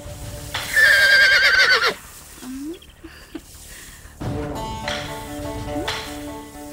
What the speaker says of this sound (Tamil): உன் குதிரை காத்தாலே களத்துக்கு வந்து கணிக்குது